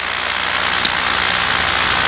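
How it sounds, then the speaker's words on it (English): A Parajet paramotor engine runs in flight with a smooth, continuous loud drone and broadband wind roar, steady throughout with one brief click near the middle. "Engine sounds quite smooth actually, I'm quite happy with that."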